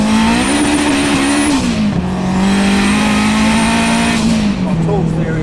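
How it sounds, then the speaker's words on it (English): Turbocharged 700 hp Honda Integra Type R pulling hard in second gear, a loud, continuous engine roar rising in pitch, easing briefly and climbing again, heard from inside the car with people talking over it. "Do a little second gear pull."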